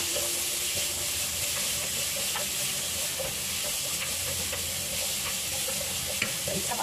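Garlic and oil in a pan for fresh lumpia, giving a dense, even sizzle and hiss close by with faint stirring clicks and no talk.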